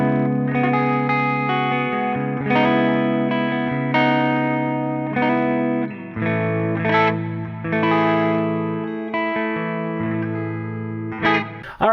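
Guitar chords strummed one after another through a plate reverb effect on an HX Stomp, each ringing out with a lush, slightly gritty reverb tail that lingers between strokes.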